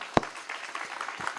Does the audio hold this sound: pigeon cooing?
no